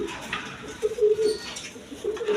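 Golla pigeons, including a female desi golla, give soft, low coos in short repeated phrases, close up over faint background noise.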